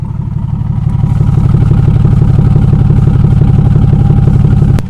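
A Toyota Supra engine idles loudly and close up, a steady rhythmic low rumble that holds for several seconds before cutting off abruptly at the end.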